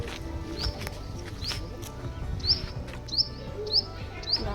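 Repeated short, high chirps ring out every half second or so over a busy, rumbling background, with a voice murmuring underneath, at the Poush Mela fair in Santiniketan.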